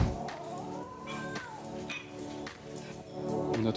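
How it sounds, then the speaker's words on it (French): Several cats meowing in a busy urban spot in Laos, with repeated cries rising over a dense, continuous background of traffic and street noise. "Ça en fait des chats."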